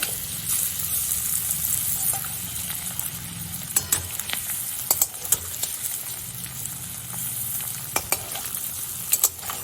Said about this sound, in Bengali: লবণ হলুদটা সবটা ডিমে মাখিয়ে আমি ডিমগুলো এপিট ওপিট করে ভেজে নেব।